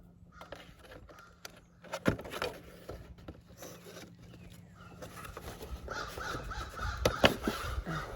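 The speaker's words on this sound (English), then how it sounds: "These crows are insane." Crows cawing outdoors in short, repeated calls at moderate distance, scattered through the clip over light background clatter, with a louder burst of calls toward the end.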